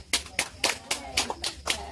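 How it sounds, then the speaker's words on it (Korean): Hands clapping at a family birthday celebration for a mom, with about eight loud, close, evenly spaced claps in a steady rhythm and no talk. "박수 박수."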